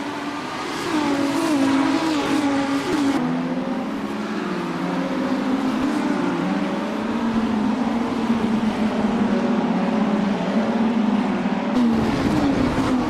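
Lamborghini Super Trofeo race cars at Long Beach roar continuously with sustained high engine drone and pitch shifts as cars race closely, loud and dense throughout.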